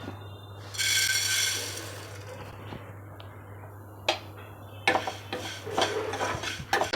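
Fresh coriander seeds roasting in a pan (bandi) over high then low heat, stirred with a utensil: scattered scraping and clinking strikes over a steady low hum, with a brief rattling rush near the start and sharper scrapes toward the end.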